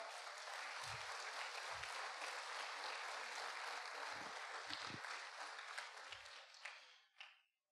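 A church congregation at a conference in Blumenau bursts into broad, sustained applause that fills the room, with a few low thumps underneath, before it tapers off and fades out near the end.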